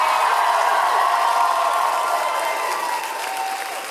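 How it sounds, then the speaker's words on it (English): Concert crowd at a show in Chicago applauding and cheering, a loud, sustained wash of clapping and voices that fades slightly toward the end. "So let's give a round of applause to them for us."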